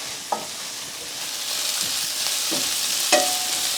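Broccoli and chicken fry in butter in a pan, giving a loud, steady sizzle with a few scraping stirs of the pan along the way.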